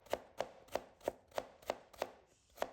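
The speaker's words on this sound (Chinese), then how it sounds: "接着再准备1根去皮的胡萝卜，先给它切成薄片，也是切得越薄越好。" A knife slices a peeled carrot into thin pieces, eight crisp evenly spaced chops striking the cutting board close up in a quick steady rhythm, with a brief gap before the last stroke.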